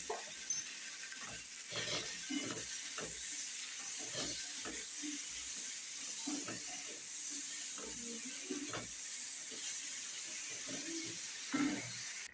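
Chicken frying in a pan with a constant soft sizzle and hiss, broken by repeated scraping and clinking strokes of a spoon as the pieces are stirred, quiet and close.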